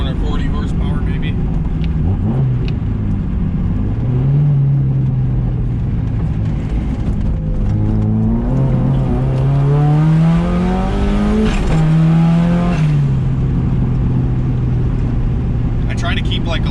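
A turbocharged Mazda Miata running about 10 psi of boost pulls hard through the gears, its engine rising in pitch with each climb and dropping at every shift, loud and close inside the car, with someone talking over it.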